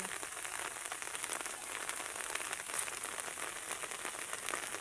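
Rain falls steadily outdoors on a wet, rural fishing outing, a soft, even hiss of drops hitting surfaces with no voices, continuous and fairly faint throughout.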